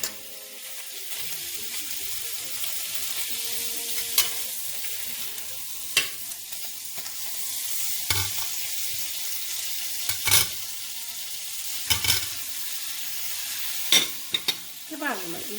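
Salmon with mushrooms and peppers sizzles in a pan, with scattered scraping clicks as the pieces are turned every couple of seconds, close and moderately quiet, with a faint tonal hum underneath and no talk.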